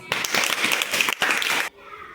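Classroom pupils give a short round of clapping for a fellow student, a quick busy flurry of small hands that halts suddenly after under two seconds, with a voice heard briefly as it ends.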